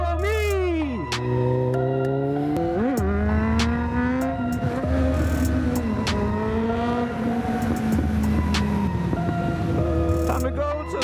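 A motorcycle engine revs hard as the rider pulls away, its pitch climbing and falling through several close, loud surges with a brief squealing edge.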